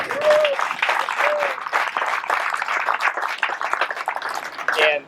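A small audience at a river restoration gathering claps for a state official, with scattered, individually distinct hand claps that gradually thin out. A few voices and whoops rise over the clapping.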